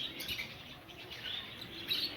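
Lovebirds at a bird park in Fez give a continuous wash of high, thin chirps and tweets, moderately distant and fairly steady with a few brighter calls near the end.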